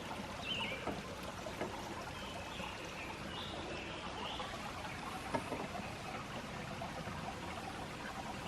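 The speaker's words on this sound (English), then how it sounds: "A nice little creek there." Pickle Creek, a small creek beside a trail at Pickle Springs Natural Area, flows with a faint, steady trickle and gentle splashing, quiet and continuous, with no talking.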